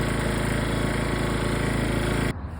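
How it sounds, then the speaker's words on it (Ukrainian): An Edon PT 3000 petrol generator for a modular house runs with a loud, close, steady engine drone and rapid pulsing throb, then cuts abruptly to a quieter hum near the end, with no talking. "все, генератор працює"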